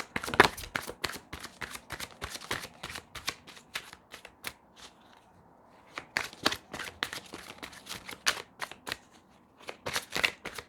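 Tarot cards are shuffled in quick, crisp bursts of riffling and slapping, quiet and close, with short pauses between runs and no talking.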